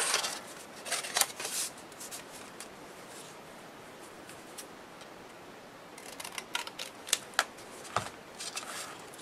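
Scissors cutting a paper strip for a steampunk envelope mini album, faint, close snips and crisp paper rustles in two short bursts at the start and near the end, with quiet handling between.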